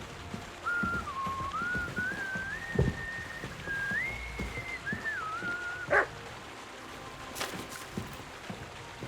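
A dog in the medieval game Kingdom Come: Deliverance II gives a couple of short, sharp barks amid quiet outdoor game ambience, while a high, wavering whistle-like tone runs through the first half.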